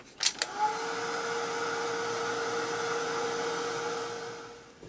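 Handheld hair dryer drying acrylic paint on a small art tag, switched on with a couple of clicks, then a steady close whirring blow with a constant tone lasting several seconds.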